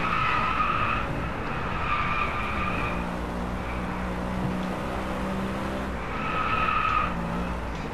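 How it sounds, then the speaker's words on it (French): Tires squeal as a race car slides through corners in Driveclub on PS4, two bursts of skidding over a continuous roaring engine, loud and close. "Elle glisse un tout petit peu la voiture"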